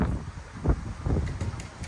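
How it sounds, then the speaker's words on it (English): Gusty southern wind buffeting the microphone outdoors in Alaska with low rumbling bursts, a continuous blustery roar that rises and falls. "We got a southern wind. It's been blowing all day"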